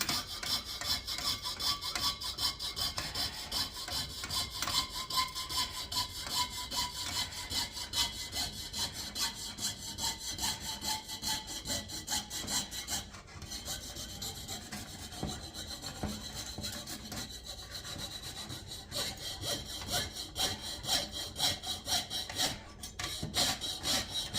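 Rapid, fine rasping strokes of a coping saw piercing through a large 6-inch copper disc, continuous and close, with a faint high ringing running underneath.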